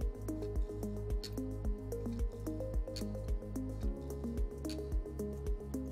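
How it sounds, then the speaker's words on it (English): Distilled water pipetted into assay tubes in a lab: a regular train of soft squishing, dripping clicks about twice a second, close and quiet, with a brief pause and a shift in tone partway through. "Pipette 2 ml of distilled water into all assay tubes"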